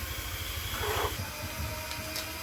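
Pasta ingredients sautéing in butter in a pan give off a steady, moderately loud hiss and sizzle that swells briefly near the middle, with no voices.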